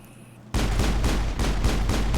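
Pistol fire during a Mass Effect firefight against Krogan enemies: after a brief quiet moment, a loud, dense burst of rapid gunshots starts and keeps going without pause, close and harsh.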